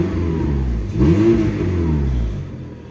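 A nearby Volkswagen Golf Mk4 engine with a straight exhaust pipe rumbles loudly, rising briefly in a throaty rev before settling back to a steady drone.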